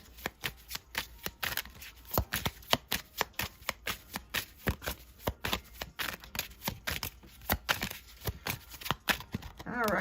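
Tarot cards are shuffled by hand in quick, repeated riffles and snaps, a close, crisp rhythmic flutter that runs for about ten seconds with no talking.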